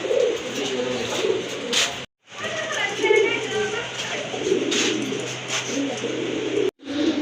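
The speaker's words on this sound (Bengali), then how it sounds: "কবুতরগুলো আপনাদেরকে দেখাই" Pigeons kept for sale coo steadily and close by in a soft, repeated murmur that runs through the whole stretch, with two very brief dropouts and some faint background voices.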